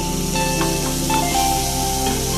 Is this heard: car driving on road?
no